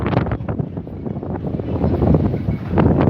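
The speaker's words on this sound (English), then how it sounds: "Wow, that wind is unbelievable today" Strong wind gusts on a seafront, a loud and steady broadband roar with rumbling buffeting on the microphone throughout.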